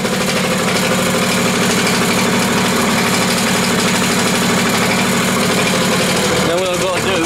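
A 1985 Yamaha PW80 motorbike engine ticks over at a steady idle, close and loud, with a continuous throb that holds for several seconds before a brief shift near the end.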